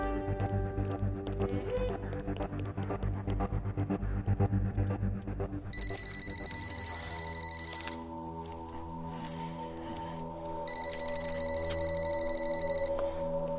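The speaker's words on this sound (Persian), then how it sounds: "تلفن زنگ میزند" A telephone rings in two bursts of repeated electronic trills over a steady musical backing, with no one speaking.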